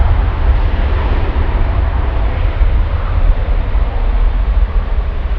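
Lufthansa Boeing 787-9 Dreamliner jet airliner at Frankfurt airport, a steady, loud broadband engine roar with heavy low rumble, holding constant throughout with no talk.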